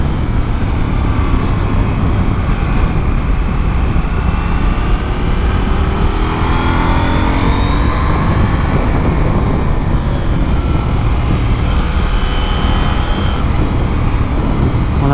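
A KTM 890 SMT twin-cylinder motorcycle pulls hard out of a corner on the road, its engine roar rising and falling under heavy, constant wind rush from the onboard ride.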